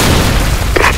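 In a team deathmatch shooter video game, a grenade detonates in a loud, deep boom that bursts out near the end of a dense, noisy rumble of battle.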